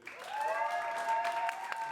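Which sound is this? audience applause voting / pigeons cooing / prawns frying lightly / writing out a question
audience applause voting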